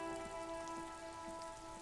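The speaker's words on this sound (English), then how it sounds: "I love the effect of the rain on the ground." Rain falls on the ground in the video game Disco Elysium, a soft, steady patter under a constant hum of tonal background music, brief and without voices.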